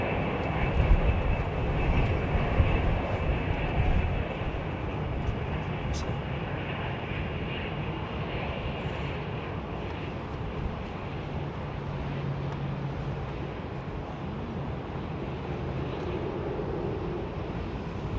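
A Saudia airliner in an old-new livery taxis at London Heathrow Airport, a steady broad engine rumble and roar holding close and loud throughout, with a faint voice over it.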